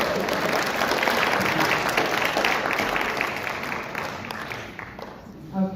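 An audience at a Utah State Senate District 22 candidate debate applauds the candidates in a steady, dense round of clapping that fills the room, then tapers off near the end.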